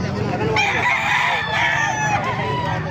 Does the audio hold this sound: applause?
no